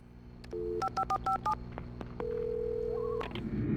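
A telephone being dialed in the video game Alan Wake: a short tone, then a quick series of five touch-tone beeps, followed by a long steady ring tone and a burst of line noise, clean and close.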